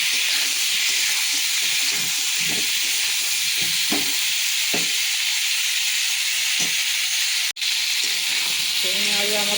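Drumstick pieces and potato frying in oil with onion for a besara dish: a steady, loud, hissing sizzle that lasts throughout, with soft stirring knocks scattered through it and one brief dropout near the end.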